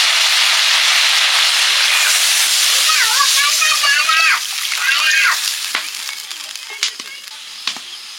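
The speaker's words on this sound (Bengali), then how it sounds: "মশলা কষা হয়ে গেছে, তেলটা ছেড়ে দিয়েছে, এবারে জল দিয়ে দেবো।" Water poured into hot fried spice paste for a koi fish curry bursts into a loud, roaring sizzle and steam hiss that gradually settles and fades, with voices audible over it.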